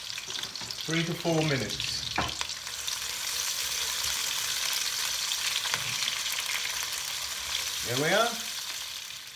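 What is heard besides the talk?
onion mixture with cinnamon stick frying while being stirred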